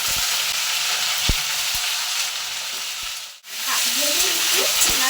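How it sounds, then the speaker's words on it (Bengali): Cauliflower, potato and green chillies fry in a wok with a loud, steady broadband sizzle, a few sharp spatula knocks, and a brief dip before the crackling resumes with stirring. "এরপর আমি ফুলকপি, আলু আর কাঁচা লঙ্কা সব দিয়ে একবার ভেজে নিচ্ছি।"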